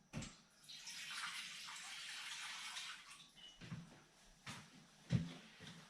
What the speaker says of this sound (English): Just from the cold tap.